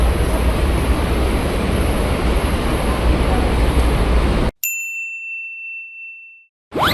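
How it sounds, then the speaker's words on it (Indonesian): An LRT Jabodebek train pulls into the platform at Bekasi Barat station with a loud, steady roar that cuts off abruptly, followed by a clear electronic chime tone and a brief rising sound at the end. "udah masuk tuh kereta tujuan Duku Atas"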